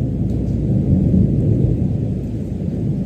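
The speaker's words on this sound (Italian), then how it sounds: "Non è un'astronave aliena che sta invadendo, ma è un tuono lontano." Distant thunder rolls as a continuous deep, heavy rumble, steady and fairly loud throughout with no breaks and no talking.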